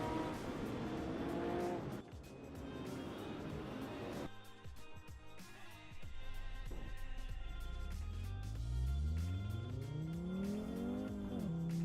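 A short-wheelbase Audi Sport Quattro driven in Assetto Corsa, its engine droning steadily with tire noise, then revving hard through rising gear sweeps, with a voice talking over it.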